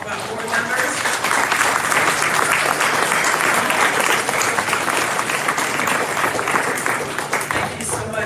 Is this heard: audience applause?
yes